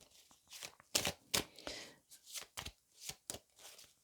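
Tarot cards shuffled for a reading, a rapid series of close crisp riffling and slapping bursts in an irregular rhythm, alone without talk.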